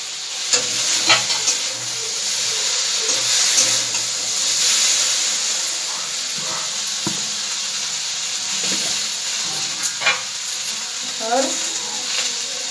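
Drumstick (sahjan) vegetable being stir-fried in a pan sizzles and hisses steadily up close, with scraping stirs and occasional clinks of the utensil, while a person speaks at times over the cooking.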